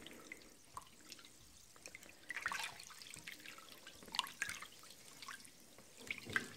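Homemade fabric softener with orange essential oil being stirred and mixed, giving soft liquid drips and splashes with a few brighter sloshing bursts, fairly quiet and close, with no talking.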